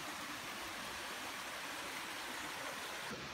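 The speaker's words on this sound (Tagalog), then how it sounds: "So ito yung tubig na pinanggagalingan ng falls na bumababa po dun sa side na yon." Spring water at Himamawo Spring in Ibaan, Batangas rushes steadily downhill toward the falls, a close, even, hissing wash with no break or voices.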